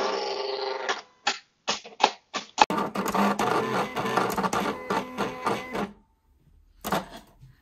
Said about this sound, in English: So that's the machine done the test cut.